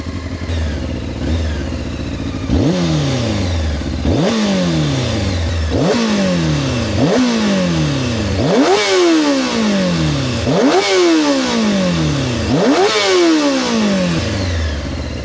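Honda CBR 600 F sport motorcycle engine revved repeatedly, about eight sharp throttle blips rising and falling in a steady rhythm, loud and close with no talking.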